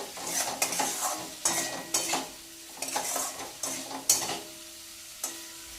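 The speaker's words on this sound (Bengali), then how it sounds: "এবার একটু ভেজে নিই ঠিক করে।" Coriander and cumin powder spice mix frying in oil is stirred in a pan, giving repeated scraping strokes over a soft, steady sizzle, close up, with no talk.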